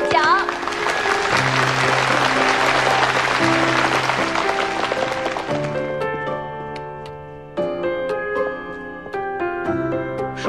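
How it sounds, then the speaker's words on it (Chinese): At an awards ceremony, as the presenter is welcomed to hand out the Best App of the Year award, a burst of applause rides over fanfare music, then fades away and leaves the music playing on alone. "让我们用最热烈的掌声欢迎我们今天的颁奖嘉宾财富投资人许宁远先生上台颁奖。"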